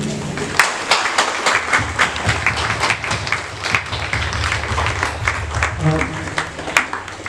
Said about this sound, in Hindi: आप सभी को ताली बजाएंगे।